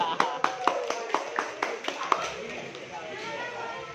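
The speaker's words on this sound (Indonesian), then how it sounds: "Tepuk tangan buat guru-guru." A small group in a cafe claps for teachers on Teachers' Day with a series of distinct, fairly close handclaps in a loose rhythm, thinning into a softer patter as murmured voices and room noise carry on beneath.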